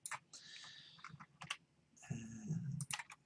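A computer keyboard key is pressed for a shortcut while modeling in SketchUp, giving a few sharp, quiet clicks spaced apart against a low background hum with some tonal noise.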